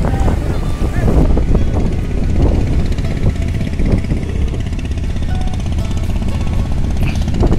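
A speedboat arriving at Chairman Ghat from Noakhali on a wide river: a loud, continuous, rumbling engine drone mixed with heavy wind buffeting on the microphone, close and unbroken throughout.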